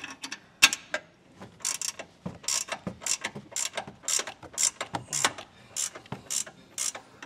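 A ratchet wrench tightens the base plate bolts on a 2022 Jeep, giving repeated bursts of close, sharp clicking strokes in a steady back-and-forth rhythm with short pauses, and no voices.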